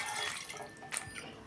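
Milk pours into a pot set on a gas stove, a soft, close liquid trickle and splash that swells briefly near the end.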